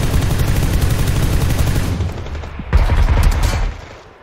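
Gunfire in a PUBG Lite PC team deathmatch comes as rapid, loud, continuous bursts of automatic shots that thin out, then flare again in a second dense burst and fade.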